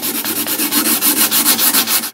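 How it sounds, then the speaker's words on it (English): Sandpaper block rubbing over filled fret ends on a guitar, quick rhythmic back-and-forth scratchy strokes, close and loud, about a dozen passes with no talk. "come in with a block of sandpaper or a file or something and just level it all."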